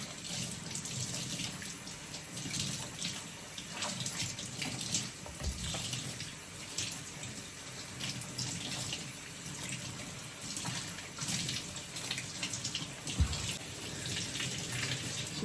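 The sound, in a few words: washing plantains under running tap water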